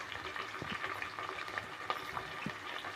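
Onions and green chilies fry in a pan with a faint, steady sizzle and a few light stirring clicks and scrapes.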